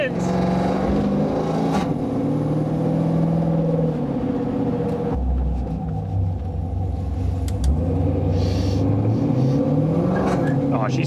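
An LTx-swapped Trans Am with a 6L80e transmission revs and rumbles from inside the cabin. A steady engine drone rises and falls through light throttle, with a shift in tone midway.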